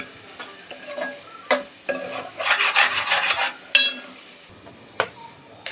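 Prawns roasting in a pan with a ground onion, coconut and tomato masala for a prawn curry, a loud sizzling swell with sharp scraping stirs and clinks of the spoon against the pan, close and without talk.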